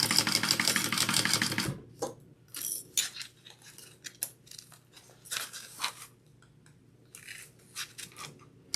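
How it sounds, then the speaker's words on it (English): A sewing machine stitching a bag gives a dense, close mechanical whirr for nearly two seconds. Short, irregular bursts of stitching and clicks follow, separated by quiet gaps. "Let's sew her up."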